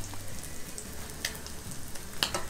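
Salmon patties fry in a pan with a soft, steady sizzle and a few brief crackles, close by and moderately quiet, with no one talking over it.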